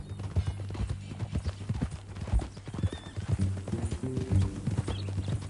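Horse hooves clip-clopping at a steady walking pace in the video game Red Dead Redemption 2, a quiet rhythmic clatter with a brief whinny, heard under low background ambience.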